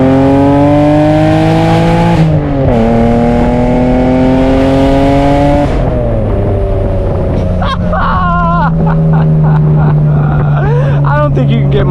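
A straight-piped BMW Z3M roadster with an M3 engine screams loudly as it is driven hard with the top down, revs climbing and dropping through gear changes before settling, while a voice talks over the exhaust.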